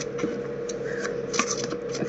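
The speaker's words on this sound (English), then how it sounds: "She gets very excited when we do the shuffle." Tarot cards are shuffled close up in quick riffling bursts and soft slaps, a busy papery rustle running continuously.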